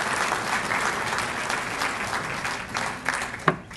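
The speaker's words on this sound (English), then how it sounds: "Give him a round of applause." An athletic hall of fame ceremony audience applauds in a steady wash of many hands clapping at moderate volume, with a single sharper clap standing out near the end.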